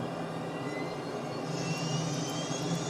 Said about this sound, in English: Yep, there we go. We've got one engine going again.